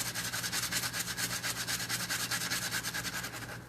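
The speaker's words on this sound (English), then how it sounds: "Now that we did a lot of scraping." A Nike Air Force 1 High in Gym Red with a gum sole is scraped during a cleanup in a fast, even run of close, rhythmic rasping strokes, steady for several seconds with no talk.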